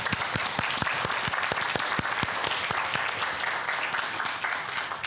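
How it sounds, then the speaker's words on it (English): An audience applauds carol musicians at a winter solstice Christmas carol program, a full, even wash of clapping with a few sharp nearby claps standing out, sustained throughout without voices. "please, a round of applause for them."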